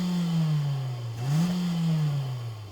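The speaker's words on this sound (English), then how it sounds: "there is a real exhaust, Jacob, and here's how it sounds." A 2024 Mitsubishi ASX exhaust revs twice up and down, loud and close, with each rise settling back toward a steady idle drone.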